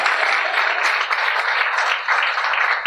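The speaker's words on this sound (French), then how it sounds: "On l'encourage avec des applaudissements, s'il vous plaît." Wedding guests at a civil marriage ceremony applaud in a dense, steady wash of clapping that stays fairly loud throughout, with a slight dip near the two-second mark.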